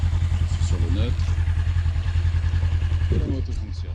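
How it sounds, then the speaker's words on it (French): A Honda Rebel 500 motorcycle engine idles in neutral close by with a steady, rapid low putter; someone talks briefly over it. "et la moto fonctionne."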